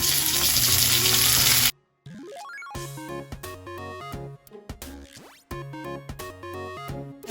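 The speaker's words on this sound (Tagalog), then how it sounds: "Tapos ilalagay na natin yung marinated na beef." Marinated beef for caldereta hits a hot pan with a loud sizzle that cuts off abruptly, and tonal music then plays over the cooking for the rest.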